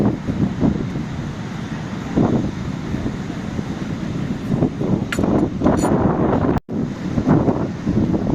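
Loud, continuous wind buffets the microphone by the Mediterranean Sea in Spain, with a low roar of surf underneath and a brief dropout near the end.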